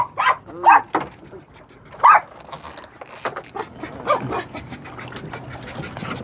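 A guard dog kept on a boat barks loudly and close in several sharp bursts, then whimpers and yips more softly between them.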